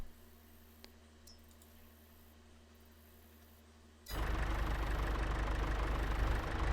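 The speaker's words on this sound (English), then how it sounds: "This tractor was struggling just a little bit with the seeder here, but it got it done." Tractor engine in Farming Simulator 22, hitched to a seeder: a low, steady idle rumble at first, then an abrupt jump to a much louder, dense engine roar that holds to the end.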